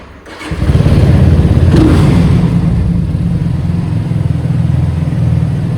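A motorcycle engine starts and revs loudly in a basement, its strong uneven rumble rising sharply after a brief quiet opening and holding a rough, throbbing idle with occasional throttle blips.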